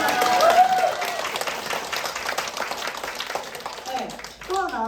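A crowd claps at a film premiere screening, a dense, steady wash of applause lasting throughout, with a voice speaking over it at the start and again near the end.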